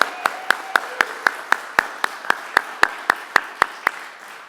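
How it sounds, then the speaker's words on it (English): Applause at an Eagle Scout court of honor, heard as sharp, evenly spaced claps in a steady rhythm, close and distinct rather than a dense crowd roar, fading slightly at the end. "So if I can get a round of applause for Mr. Patton."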